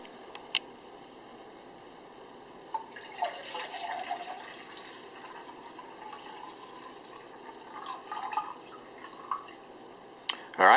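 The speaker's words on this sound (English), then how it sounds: "I'll put some water in it and bring it to a boil" Water poured into a Jetboil cooking cup, a steady trickling, dripping fill of about 16 ounces heard close, with splashier surges partway through and near the end.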